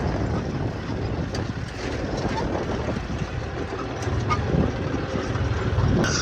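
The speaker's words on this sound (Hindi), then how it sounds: "बारिश हो रही है, बहुत तेज हवा चल रही है देखो।" Strong cold wind and rain sweep across a wheat field at night, a constant loud rushing and buffeting with rain noise throughout and a few faint knocks.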